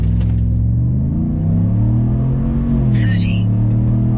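A four-wheel-drive pickup truck with a 5.0 engine launches hard from a stop, its loud, close engine rising in a steady full-throttle roar that climbs in pitch and then shifts, with no talking.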